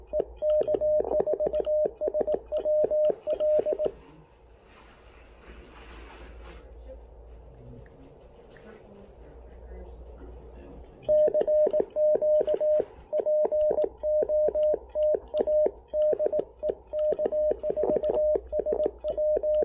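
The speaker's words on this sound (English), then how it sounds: "I'm doing some Morse code here. I'm doing a radio thing, so you're gonna hear." Morse code keyed on a (tr)uSDX ham radio through a BHI dual in-line DSP: a steady stream of short and long high beeps, then a long pause filled only by faint hiss and murmur before the rapid keying resumes.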